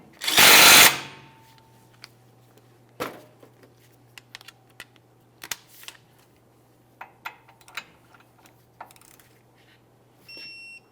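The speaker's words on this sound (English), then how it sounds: "Start this on by hand, snug it up, and then you want to torque that to 48 foot-pounds." An outer tie rod end nut is snugged and torqued to 48 foot-pounds: a loud power-tool burst at the start, then a scattering of close metallic clicks and ratchet ticks over a low steady hum.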